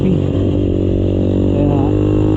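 Motorcycle engine on a solo ride in Bataan, a steady close drone with low harmonic layers held throughout, rising slightly near the end as if revving through a banked turn.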